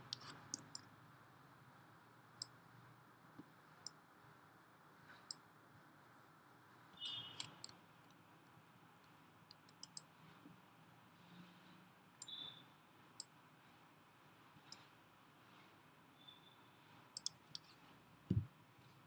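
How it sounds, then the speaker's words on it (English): Faint, sparse computer mouse clicks, single sharp taps spaced irregularly a few seconds apart over a quiet room hiss. "Just click here"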